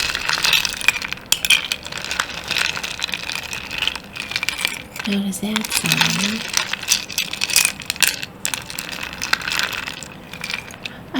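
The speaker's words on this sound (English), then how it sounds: "I never thought of ice sounds." Ice clinks and rattles in bright, irregular chinks close up, tinkling continuously in an ASMR-style setting, with a person briefly speaking partway through.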